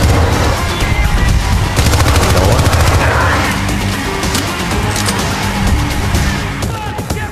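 Rapid bursts of automatic gunfire in the shooter game Syndicate, loud and close, with sustained volleys and sharp cracks running throughout.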